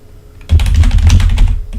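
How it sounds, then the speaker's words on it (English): Rapid burst of typing on a computer keyboard, close and loud clicky keystrokes in quick succession after a brief quiet start. "you just type in CoinMarketCap"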